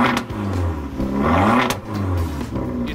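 A retro-styled car's 1.4-liter turbocharged four-cylinder revs close by, a raspy mid-pitched engine note rising and falling in short bursts, with no talking.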